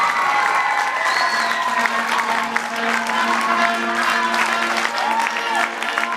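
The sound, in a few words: audience applause for dancers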